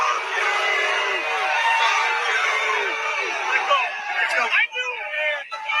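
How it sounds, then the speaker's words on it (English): A large crowd boos Trump, a loud, sustained roar of many voices with rising and falling jeers that dips and breaks up briefly near the end. "Oh, they booing Trump."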